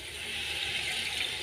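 Tap water gushes steadily into a pot of vegetable khichuri, a close, even rushing splash with no pause.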